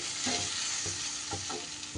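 Fried spice masala stirred in hot oil, with a steady close sizzle broken by several rhythmic scraping strokes of the spoon through the pan.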